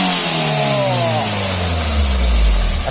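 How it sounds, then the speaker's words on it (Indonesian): A Daihatsu Gran Max engine revs hard and climbs steadily in pitch, a loud, close, continuous mechanical roar with no other sounds. "Nggak tahu ini kenapa Grand Max ini kok bisa kayak gini mesinnya nih guys"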